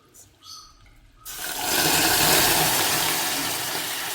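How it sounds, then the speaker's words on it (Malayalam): Two tablespoons of water go into a hot pan of browned sugar, with the heat switched off, while making an eggless plum cake. After a brief quiet stretch a loud, steady hissing rush swells up and holds to the end. "നമുക്കിതിലേക്ക് ഒരു 2 ടേബിൾ സ്പൂൺ വെള്ളം ഒഴിച്ച് കൊടുക്കാം."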